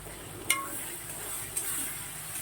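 Onion, ginger and spices for chicken curry sauté in a pan with a faint, steady sizzle, broken by two soft stirring clinks of a utensil against the metal.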